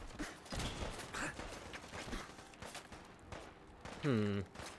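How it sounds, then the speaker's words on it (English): Gauss gun fired in Fallout 4 on PC, aimed at an enemy in power armor: a sudden loud charged discharge with a ringing harmonic whine near the end, amid dense game noise and scattered impacts. "Let's try my new Gauss gun out"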